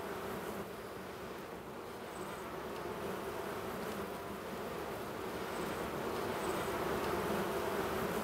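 A dense, steady buzz of many honey bees fills the air continuously, close by, with no voices present.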